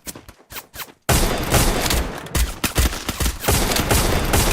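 Dense gunfire in a battle royale shooter during a competitive qualifier match, a few sharp isolated shots followed by a sustained loud barrage of rapid overlapping rounds and bursts.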